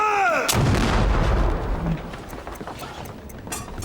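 A ship's cannon on a sailing warship fires a single loud, close blast that booms and rumbles, then slowly decays into a lingering low roar.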